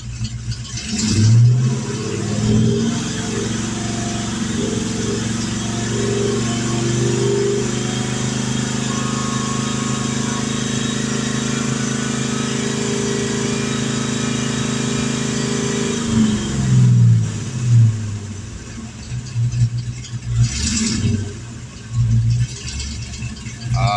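A 1990 Ford Mustang LX engine held steady at about 3,000 RPM, a loud, sustained, even drone for around fifteen seconds before dropping back to a rougher, pulsing idle.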